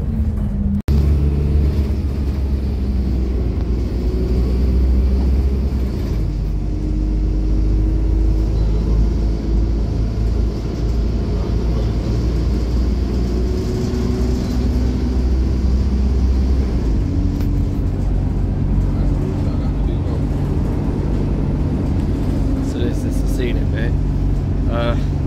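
Steady engine rumble and road noise from inside a bus on the scenic route toward Aylesbury, Buckinghamshire, through the Chilterns, continuous and fairly loud throughout, with faint voices in the background.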